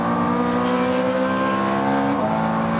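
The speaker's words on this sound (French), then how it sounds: "Bruit magique du V8 maintenant." A high-revving Ferrari F430 Scuderia V8 on a track drones steadily and loudly, its pitch shifting down briefly near the end as if changing gear.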